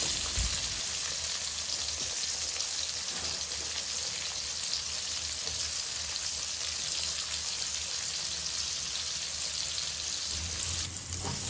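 Onion frying in oil with a bay leaf, a dense continuous hiss of sizzling that stays even and moderately quiet throughout, with no talk.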